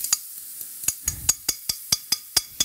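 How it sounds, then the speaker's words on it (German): Beaten eggs poured into a buttered frying pan for a ham and cheese omelette, a quick regular run of sharp clicks and scrapes over a soft sizzle, close and without talking. "Jetzt machen wir unsere Eier drauf."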